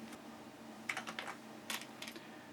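Clusters of quick key clicks from a computer keyboard, a few irregular bursts of typing over a low steady room hum, with no talking.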